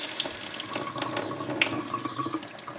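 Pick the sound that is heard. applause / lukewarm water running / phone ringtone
lukewarm water running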